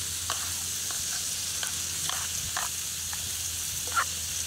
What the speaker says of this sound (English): brown up these sausages